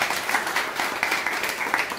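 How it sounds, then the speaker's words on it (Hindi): A classroom group claps together briefly, a quick burst of fairly loud, rhythmic applause. "ताली बजा दीजिए एक बार।"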